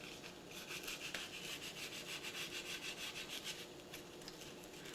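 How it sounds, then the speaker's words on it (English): Hand sanding with fine 150-grit sandpaper gives a soft, rhythmic back-and-forth rasp. The strokes are quiet and close, repeating steadily over a painted surface with no voices. "150, which is fairly fine sandpaper."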